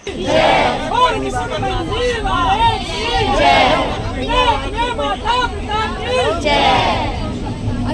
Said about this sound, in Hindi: पूरी ट्रेन में बस खाटू श्याम जी के जयकारे लग रहे थे।